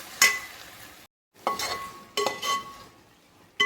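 A spoon stirs eggplant, potato and tomato curry with coriander powder in a pan, giving scraping strokes over a soft sizzle, with brief clinks of the utensil against the vessel.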